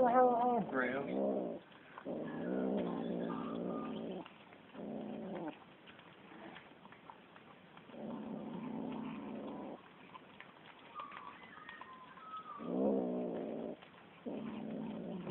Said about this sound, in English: So funny listening to all this strange growls.